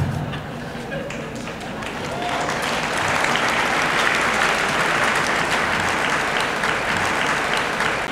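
Audience applause at a back-to-school teachers' union rally swells after a couple of seconds into sustained, dense clapping from a large crowd, with a voice carrying over it early on.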